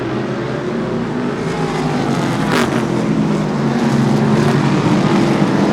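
Race cars roar around a super short track, engines droning loudly and steadily as they pass close by, with a brief rise in the middle of the pack.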